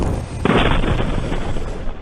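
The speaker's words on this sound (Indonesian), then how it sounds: "Serangkaian ledakan terdengar di kawasan Al-Deir, Provinsi Basrah." Explosions from an attack in the Al-Deir area of Basrah Province, Iraq, heard as a loud, dense boom that swells and rumbles continuously through the short span.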